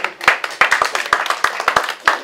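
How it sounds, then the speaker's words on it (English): A small comedy-club audience at a stand-up show claps in a thin, uneven round, with distinct individual hand claps ringing out close and sharp over a couple of seconds. "A round of applause."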